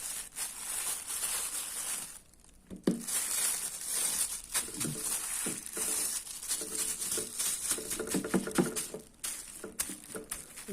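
A plastic bag packed with garlic crinkles and rustles steadily, with crackly crumpling, brief pauses and sharper handling bursts toward the end, close to the microphone.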